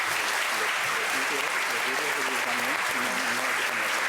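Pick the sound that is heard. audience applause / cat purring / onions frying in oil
audience applause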